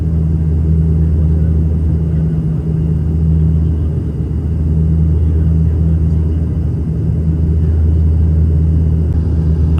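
Steady, loud drone of an ATR 42-320 turboprop cabin on final approach to Kathmandu Tribhuvan International Airport, with strong low engine hum and rumble running constantly with no talk.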